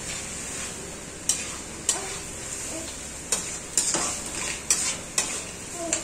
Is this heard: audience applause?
no